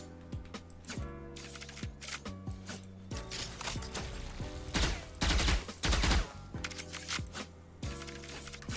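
Gunfire in Valorant, rapid bursts of shots mixed with tonal game effects and a couple of louder, denser volleys near the middle, close and prominent.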